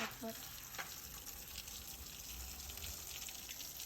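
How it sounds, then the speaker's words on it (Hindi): Water pours and splashes into a cockatiel and budgie cage being cleaned, a steady broadband gush that runs close and even throughout, with a brief clatter at the start. "अब मैं ना इसके अंदर पानी डाल के रख देता हूँ"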